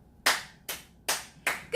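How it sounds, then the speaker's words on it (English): Four evenly spaced sharp hand claps ring out close and clear against near silence, with a fifth clap just starting at the end. "can you clap for me?"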